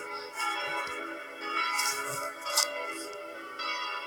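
Bells in the video game Block Craft 3D ring with a sustained metallic tone, overlapping strikes chiming and decaying, moderately distant and steady without talk.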